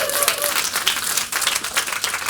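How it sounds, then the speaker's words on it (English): A business event audience applauds in a dense, steady burst of clapping, fairly close and continuous throughout. "So let's give him a cheer again"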